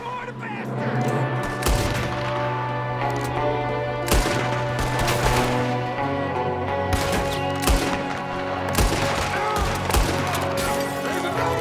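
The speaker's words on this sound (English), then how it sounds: "There's another one shooting from the window!" Red Dead Redemption 2 gunfire cracks out in many loud, sharp shots, some in quick bursts and some spaced apart, over a droning background, with people shouting in between.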